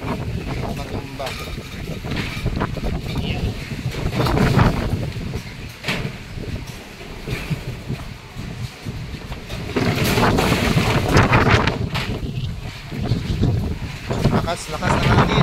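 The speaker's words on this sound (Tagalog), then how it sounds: "Grabe, ang lakas ng hangin." Strong storm wind gusts outdoors in heavy rain, roaring and buffeting the microphone in uneven surges with louder bursts partway through. Voices talk faintly under the rushing wind.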